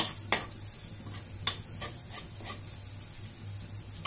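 A pan frying for chopsuey gives a low, steady sizzle, with a few sharp metallic clinks and scrapes from a utensil against the pan.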